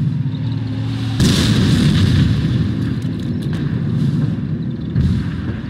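Mortar and artillery fire in the Company of Heroes war game, a loud sustained barrage of booming blasts with sharp impacts near 1.2 and 5 seconds, rumbling continuously without any speech.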